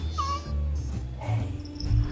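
A cat meows once amid a busy mix of background music and sound effects, fairly close and moderately loud, with no talking over it.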